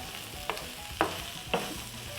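Beef pepper steak with garlic and onion chunks stirred in a pan, three distinct scraping strokes of a utensil evenly spaced about half a second apart over a low, steady sizzle.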